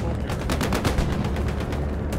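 A German bombing run over the Boatyard area in the video game Hell Let Loose, with a dense, continuous rumble of rapid explosions and gunfire-like cracks pulsing steadily throughout, loud and close.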